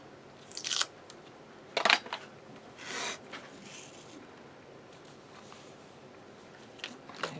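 Scissors snip through paper while a craft album cover is assembled, a few brief, crisp cuts spaced apart with quiet handling noise between them.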